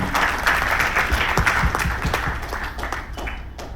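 Loud, close applause from a sizable audience at a speech in Kolkata, continuous clapping filling the whole stretch and easing slightly toward the end.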